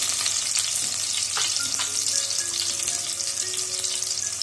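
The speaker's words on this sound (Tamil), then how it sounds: "வெங்காயம் பச்சை வாசனை போற வரைக்கும் வதக்கிக்கங்க." Onions sautéing in a pan, a steady close sizzle with a few stirring scrapes and faint high tones, continuous and unbroken with no voices.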